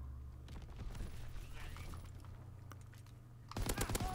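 Bursts of Lewis machine gun fire in a WW2 video game, rapid crackling shots scattered through the clip, then a sharper, closer volley at the end.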